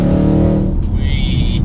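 A Roush supercharged 5.0 V8 Ford Mustang GT pulls hard in third gear with a loud, close engine roar that eases off partway through, leaving a high whine over a lower drone.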